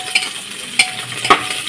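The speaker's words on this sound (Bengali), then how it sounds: "পেঁয়াজগুলোকে প্রথমে ভালো করে আমাদেরকে সর্ষে তেলের মধ্যে ভেজে নিতে হবে।" Onions frying in mustard oil for a Bengali pork curry: a faint, steady sizzle broken by a few sharp scrapes and clinks as a utensil stirs the pan.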